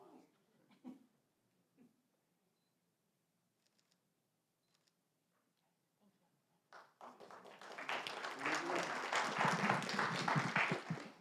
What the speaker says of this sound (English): a little clap for the wildfire